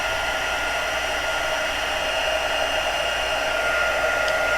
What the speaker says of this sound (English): This is my heat gun, and pardon the noise.